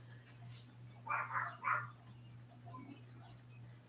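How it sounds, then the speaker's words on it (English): Dogs play and vocalize on opposite sides of a backyard fence. Faint, distant yips and whimpers come in two short bursts over a steady low hum. "you can probably hear Monterey harassing the dog on the other side of the fence. They're talking. They're playing."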